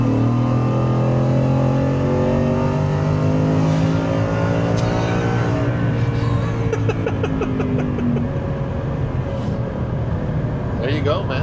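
Supercharged Ford F150 King Ranch pickup with a Coyote engine driving and accelerating, its engine note rising and falling in pitch across several gear pulls, with a person talking over it.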